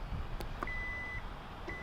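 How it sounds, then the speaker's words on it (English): A thin electronic beep from a 2020 Kia Telluride's closing liftgate sounds twice, a longer tone then a shorter one, over low mechanical hum with a couple of faint clicks. "It does a little beeping sound."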